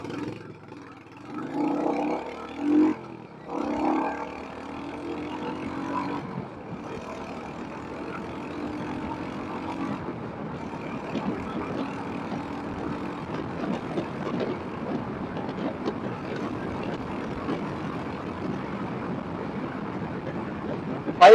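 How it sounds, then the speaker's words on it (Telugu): Royal Enfield Hunter 350 motorcycle cruising on a highway near 100 km/h, a steady broadband engine and wind roar that holds constant after a few louder bursts at the start, with no talking. "బైక్ 100 అయితే ఈజీగా వెళ్తుంది"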